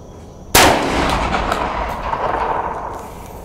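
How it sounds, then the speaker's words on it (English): A single loud, close shotgun blast from a Franchi SPAS-12 in semi-auto mode at an outdoor range, with a sharp crack followed by a long rolling echo that slowly fades. "I mainly shoot it in the semi-auto mode because I don't want to scratch up the gun"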